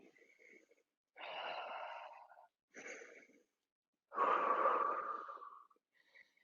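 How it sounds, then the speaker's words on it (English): Heavy, deliberate breaths during a classic Pilates mat exercise: a few loud, drawn-out inhales and exhales, close up, with pauses between them and one long forceful exhale near the end. "Keep breathing, nice and big and as loud as I am."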